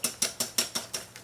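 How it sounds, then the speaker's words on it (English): Sourdough pancake batter of eggs, baking soda, salt, sugar and milk being whisked in a bowl, seven quick evenly spaced clicking strokes in about a second, close and fairly quiet with no talk. "I'm going to whisk it together."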